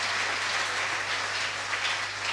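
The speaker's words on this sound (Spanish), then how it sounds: "Dele un fuerte aplauso al Señor" A church congregation claps loudly during a sermon on baptism, a dense, steady wash of applause that holds evenly throughout with no pauses and no voices.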